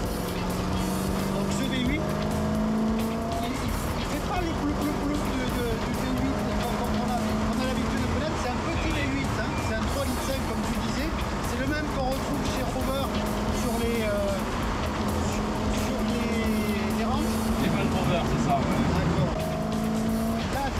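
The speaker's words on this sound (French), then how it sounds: "Là, ce V8, on est un peu habitué chez Autolégende au V8 américain." An American V8 race car engine pulls hard at a circuit race in Cadours-Laréole, its steady low drone continuous and loud, with a driver talking over it throughout.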